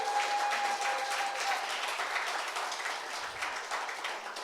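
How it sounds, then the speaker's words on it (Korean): Steady applause from a crowd at a book launch event, dense clapping sustained throughout at an even, fairly loud level. "사랑해 주실 분은 서대석 청장님을 위해서 박수 한번 다시 쳐주십시오"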